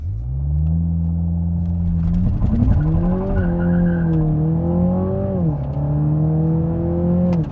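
Launch-control start in a 2020 Toyota Supra 2.0 four-cylinder: a loud engine drone holds steady, then climbs through rising revs with shift dips, heard from inside the car without talk.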